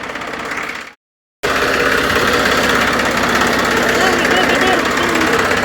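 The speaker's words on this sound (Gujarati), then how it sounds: "બહુ ગરમ થઈ ગયું ટ્રેક્ટર।" An overheated tractor engine idles with a steady chugging rumble, briefly cutting out near the start before resuming, loud and close.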